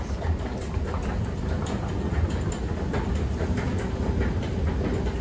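A Boğaziçi metro train runs with a steady low rumble and faint rhythmic rail clatter, continuous and fairly close throughout, with no talk.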